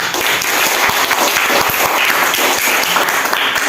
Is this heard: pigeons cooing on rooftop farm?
no